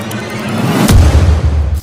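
A deep boom of a plane exploding in mid-air, a sudden low-frequency blast partway through that rumbles on heavily for about a second, loud and with no voices.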